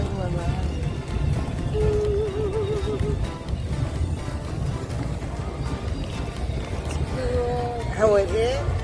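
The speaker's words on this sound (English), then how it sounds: "We are really on a gondola ride." A gondola glides along a Venice canal, with a steady low rumble of water and wind throughout and people talking over it nearby.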